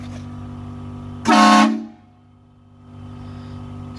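One loud, short blast from an air horn installed on a vehicle, charged to 80 psi, cuts sharply over a steady engine-like hum and then fades out.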